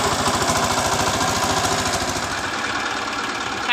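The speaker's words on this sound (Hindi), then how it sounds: "ये ट्रैक्टर जा रहे हैं घर को" A small tractor engine runs steadily after ploughing a muddy, waterlogged hillside field, a loud close chugging with a rapid even pulse that eases slightly toward the end, no talk.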